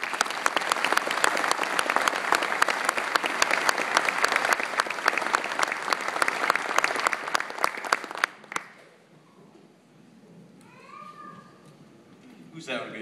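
A crowd applauds at a 2011 Urbana University graduation ceremony, dense sustained clapping for about eight seconds that stops abruptly, followed by quiet room sound and a few faint voices.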